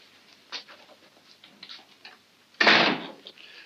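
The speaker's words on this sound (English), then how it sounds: "Go outside and close the door." A door in an old house shuts with one firm thud after a stretch of faint shuffling and light taps, the close bang standing out clearly.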